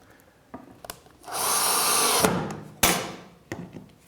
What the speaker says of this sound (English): use screws to attach it from above